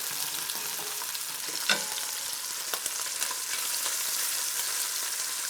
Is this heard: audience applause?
no